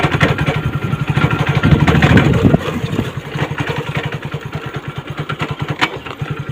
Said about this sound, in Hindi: देखो भाई बाइक बंद हो गई।